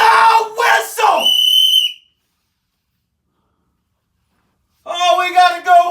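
A football fan at an Eagles–Giants game at Lincoln Financial Field blows a toy baby doll whistle, giving one near, shrill, warbling toot and then a second, tonal burst after a silent pause.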